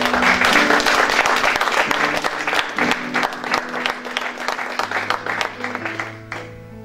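A church congregation applauds and cheers for the Lord, dense sustained clapping that fills the room and then gradually thins and fades toward the end.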